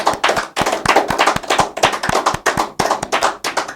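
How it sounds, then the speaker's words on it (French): Loud, close applause from a small group of dignitaries on a television set marking the end of a technical trial, sharp individual claps in a fast, uneven rhythm with no talk over them. "demander à toutes ces éminentes personnalités qui sont ici sur ce plateau, en tout cas d'applaudir la fin de l'essai technique"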